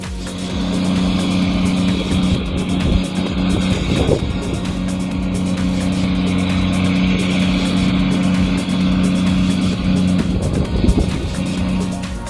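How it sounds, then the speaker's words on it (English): A Kenworth heavy-duty truck grinds up a steep mountain climb, its engine a loud, sustained, labouring drone heard fairly close with no voices. "Witness the sheer power of the Kenworth as it effortlessly powers up the mountain"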